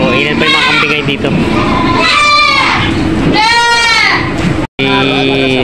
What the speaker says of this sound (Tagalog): ilan pa yung mga kambing ngayon dito